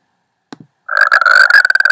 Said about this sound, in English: I'm going to hear the sound of a frog.